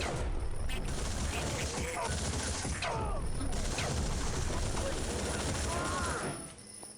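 Rapid gunfire in the video game Outcast: Second Contact, with rounds bouncing off surfaces, forms a loud, dense clatter of shots and ricochets that runs nearly unbroken before dropping away at the end.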